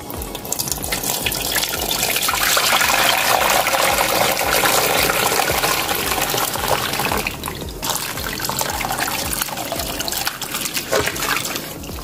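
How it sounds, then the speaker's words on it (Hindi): Bone marrow broth (yakhni) poured through a metal sieve splashes and trickles steadily for several seconds, with a loud, continuous liquid rush and small drips near the end. "यखनी को मैंने छन्नी की मदद से छान लिया है।"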